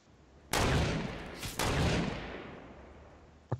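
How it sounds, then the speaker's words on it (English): Two sharp gunshot blasts in the video game Fortnite, about a second apart, each followed by a decaying rumble, then a quick faint pop at the end. "That's a lot of more gunshots."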